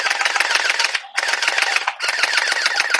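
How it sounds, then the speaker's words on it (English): A ZYMYYLF M416 gel ball blaster fires in loud, rapid full-auto bursts, three sustained strings of rattling shots separated by brief pauses, close and with no talk. "We're ready to shoot. Let's shoot it and let's see what we're doing."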